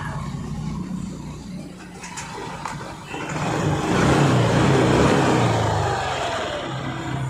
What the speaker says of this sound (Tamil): இப்போ காலையில் வந்து வண்டியை வந்து ஸ்டார்ட் பண்ணி பார்க்குறோம்